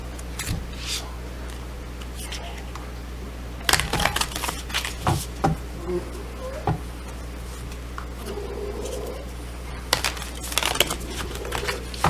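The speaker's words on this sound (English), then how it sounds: "I'm going to pull a couple more oracle cards" Oracle cards shuffled and handled in scattered crisp bursts of riffles and snaps over a constant low hum, with quiet gaps between the flurries.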